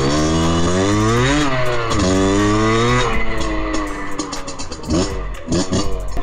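A 50cc moped rides off, its small engine buzzing loud and close, revving up in pitch repeatedly as it accelerates away, with no speech.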